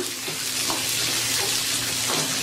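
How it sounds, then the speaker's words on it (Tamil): Onions sauté in hot oil in a pan, browning with a dense, continuous close-up sizzle that stays steady and fairly loud throughout. "வெங்காயம் நல்லா ப்ரௌன் ஆகிற வரைக்கும் நம்ம அதை வதக்குவோம்."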